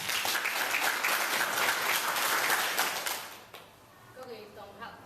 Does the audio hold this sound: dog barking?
no